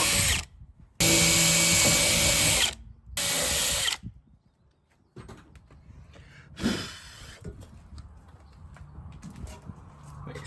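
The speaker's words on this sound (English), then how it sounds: "I think I need a bigger drill bit." A power drill whirs in two loud, sustained bursts drilling holes while building a 12-foot jet jon boat, then cuts off, leaving quieter clattering and handling noises of tools being moved about.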